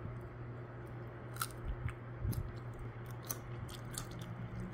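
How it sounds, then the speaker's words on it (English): Close, crisp crunching and chewing of raw carrots, several sharp bites and crunches over a low steady background hum, with no talking. "I only have carrots today, so that's what I'm eating"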